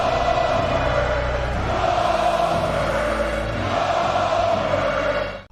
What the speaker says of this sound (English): this sounds very similar to Goldberg's iconic chant